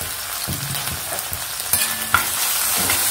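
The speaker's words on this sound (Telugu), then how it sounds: "అల్లం వెల్లుల్లి పేస్ట్ పచ్చివాసన పోయే వరకు వేగాలి" Ginger garlic paste frying and being stirred in a pan, a steady close sizzle with scraping stir strokes and a couple of sharp clinks, no voices.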